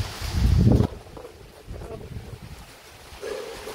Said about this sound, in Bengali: ঝড়টা ভালোই মোটামুটি দিচ্ছে